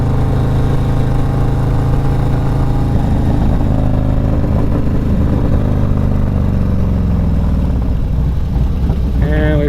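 A motorcycle engine drones steadily and loudly while the rider leans through a curve at about 30 mph and rolls on the throttle, its pitch shifting slightly toward the end, with wind rush throughout.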